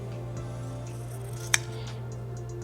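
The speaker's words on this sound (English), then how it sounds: "you will take your scissors and trim away the excess fabric" A single quick snip of scissors trimming excess fabric while sewing a headband, sharp and close, over a low steady hum.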